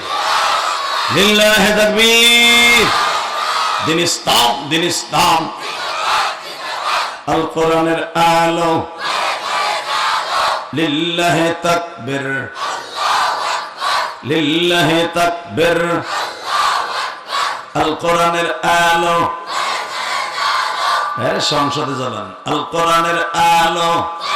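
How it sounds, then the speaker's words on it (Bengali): A large crowd at a Bengali Islamic sermon gathering chants the takbir, Allahu Akbar, in loud repeated call-and-response, a single voice leading each time and many voices answering in unison. "একসাথে বলুন তো আল্লাহ আকবার লিল্লাহ তাকবীর"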